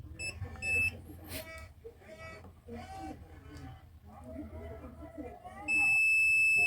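A multimeter's continuity buzzer sounds across a fuse during the repair of a Bluetooth speaker, a loud, steady electronic tone coming in near the end after a stretch of someone talking.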